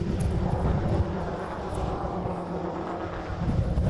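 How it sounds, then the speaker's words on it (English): A Hawaiian Airlines Boeing 717 departs on the reef runway at Honolulu, a constant deep jet-engine roar with low rumble and wind buffeting, loud and steady throughout. "Next departure on the reef runway is a Hawaiian 717."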